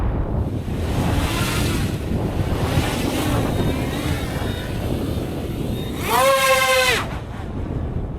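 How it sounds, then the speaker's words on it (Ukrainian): FPV drone with two-blade propellers pushed to full throttle outdoors, a rushing, wind-swept roar with a rising whine of propeller tones sweeping upward near the end as it passes close. "Такий звук доволі дивний, незвичний для мене через дволопотеві пропелери."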